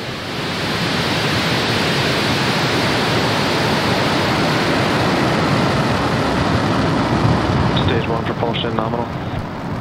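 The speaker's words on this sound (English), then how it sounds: "Ignition. And we have liftoff." A rocket engine roars at liftoff of the SXM-7 mission, a loud, broad, continuous rumble that holds steady throughout, with a voice briefly audible near the end.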